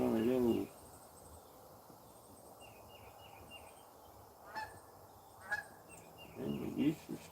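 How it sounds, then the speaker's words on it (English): Geese near a creek at a gold prospecting spot honk in short nasal calls at the start and again near the end, over a steady hum of insects and crickets. "And the geese are still hanging out."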